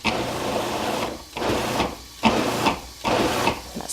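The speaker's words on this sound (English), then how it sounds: "I'm just going to pulse it and chopping it and mixing it all together." A food processor pulses keto chipotle barbacoa ingredients in short bursts, several loud whirring pulses separated by brief pauses, close up with no talking.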